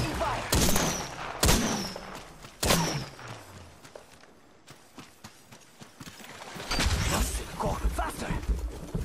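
Gunfire in Apex Legends sounds as several heavy, close blasts early on, then settles into scattered shots, movement noise and a later cluster of bursts, with some talk mixed in.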